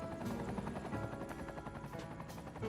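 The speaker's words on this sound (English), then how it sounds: "people can now get over there with the chopper" Steady, faint thrumming of a helicopter lifting off from a helipad in the city-building game Cities: Skylines 2, a continuous rotor drone with no talk over it.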